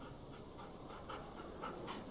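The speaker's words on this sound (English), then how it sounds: "Is that a dog?" Rhythmic, airy panting from a dog in The Walking Dead video game, a soft, close series of regular breaths over a faint, steady background drone, with no talking.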